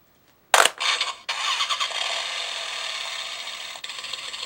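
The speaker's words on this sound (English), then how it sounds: "you can hear the engine turning over, and now you're left with an idle noise" A small toy belt engine, a Kamen Rider Accel Driver, cranks with a rapid mechanical rattle, then settles into a steady buzzing idle that runs on, loud and close.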